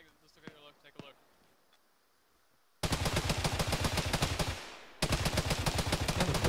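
Heavy vehicle-mounted machine gun fire in an ArmA battle: long, loud, rapid bursts of evenly spaced shots, a brief pause, then another sustained burst, following a few seconds of quiet background with faint voices.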